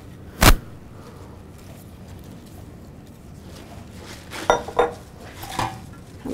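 Strawberries and salad greens tossed together in a bowl, with a sharp dish clank at the start and several clinking utensil knocks against the bowl later, close and clear over quiet room noise.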